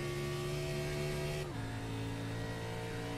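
A NASCAR car held at full throttle at Las Vegas in the iRacing sim, a steady droning engine tone that shifts pitch slightly partway through, constant and fairly loud with no talk.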